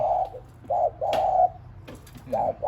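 Repeated soft, hollow cooing calls from a nearby dove, coming in short phrases over a low background hum.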